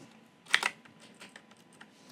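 A few light clicks of typing on a computer keyboard while entering a prompt in a Python program, a brief quick cluster of taps followed by scattered faint keystrokes, quiet and close, with no talk.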